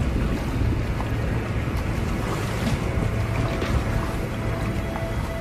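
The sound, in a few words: ocean waves and swells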